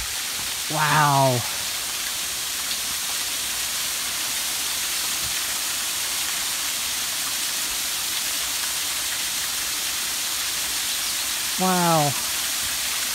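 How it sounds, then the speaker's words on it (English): A waterfall at White Oak Sinks in the Great Smoky Mountains gives off a steady, broad roar throughout. A voice briefly exclaims near the start and again near the end. "Coming up on the waterfall. I think I hear it."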